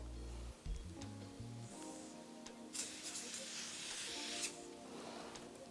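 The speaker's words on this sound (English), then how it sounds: "All we're going to do is spray the tray with some prep spray." A soft aerosol release spray hisses in a few bursts onto a baking tray in a bakery, against a faint background hum, close and fairly quiet.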